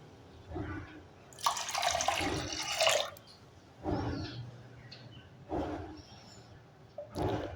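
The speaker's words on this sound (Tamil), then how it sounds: "இப்போ 3 கிளாஸ் தண்ணி விட்டுக்கலாங்க." Water is poured in several separate gushing bursts into a pot of rinsed moong dal in a home kitchen, with quiet pauses between the pours.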